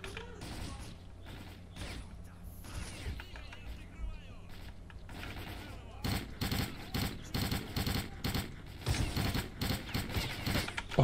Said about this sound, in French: Oh, j'ai pris une rafale de balles.